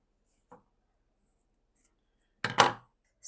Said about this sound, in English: Snip around the curves, making sure that you don't snip the stitching line.